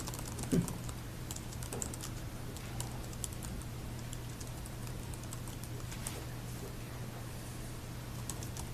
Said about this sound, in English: I wish you could see me typing.